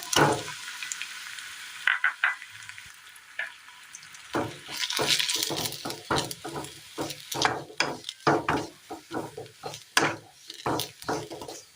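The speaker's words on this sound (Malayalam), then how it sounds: "തേങ്ങ നല്ലപോലെ ഒന്ന് വറുത്തെടുക്കണം" Grated coconut with chopped ginger and shallots is fried in a pan for a Kerala dish, with a soft sizzle under repeated, rhythmic spatula scrapes and stirring knocks close by.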